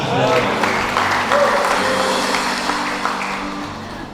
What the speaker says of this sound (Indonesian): Haleluya, beri tepuk tangan